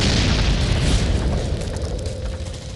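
A rocket-launcher round strikes a PT-76 tank in the Vietnam War, setting off a loud, close explosion whose heavy roar holds for about two seconds before slowly thinning out.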